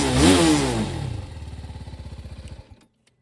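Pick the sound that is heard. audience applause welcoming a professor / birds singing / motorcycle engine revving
motorcycle engine revving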